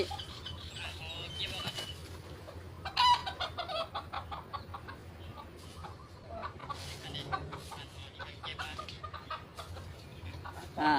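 Chickens cluck and squawk repeatedly at close to moderate distance in a farmyard, with uneven bursts of calls over a steady low background and occasional voices.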